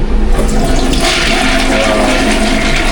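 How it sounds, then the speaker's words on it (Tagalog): A toilet at a resort in Montalban, Rizal flushes close by, a loud rushing gush of water that keeps churning for several seconds. "Flush check."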